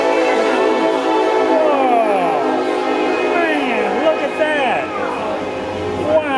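Train horn sounding at a railroad museum during a Christmas event, long blasts with sliding pitch over steady rail rumble, with people talking and children's voices throughout.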